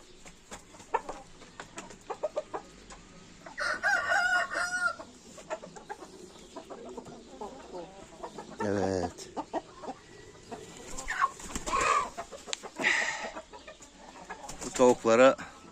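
Breeding hens clucking and squawking in bursts, close by, with scattered bird calls and a few quiet voices in between.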